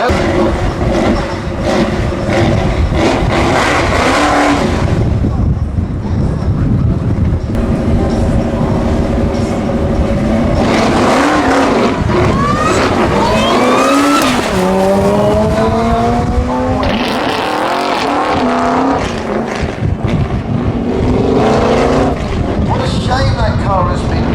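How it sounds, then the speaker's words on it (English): Cars on a no-prep quarter-mile drag strip at Manston Raceway roar and rise in pitch as they accelerate, several passes overlapping loudly with commentary beneath. "Mark Blessing drives that car in all weathers"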